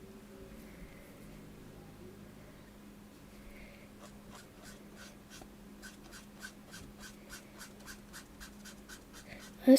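A coloring pencil scratches and squeaks on paper in quiet strokes, starting softly and then becoming a steady rapid rhythm of short scrubbing strokes close to the microphone, ending in a brief louder knock.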